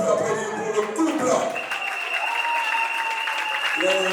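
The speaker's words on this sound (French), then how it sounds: "Est-ce qu'on peut applaudir pour le couple?" A crowd of guests applauds the couple at a Gabonese wedding evening reception, steady applause filling the room for several seconds while a voice and some background music carry on over it.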